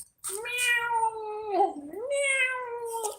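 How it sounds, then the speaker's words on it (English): A cat meows twice close by, two drawn-out tonal calls with a rising bend between them, clear against a quiet background. "There's a random kitty sound"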